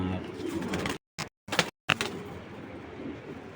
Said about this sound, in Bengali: এটা মাদি কবুতর দর্শক